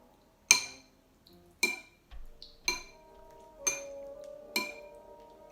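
Monster extract stirred into a stew: a spoon clinks sharply against a glass or ceramic bowl five times at roughly one-second intervals, bright ringing taps close by over quiet background.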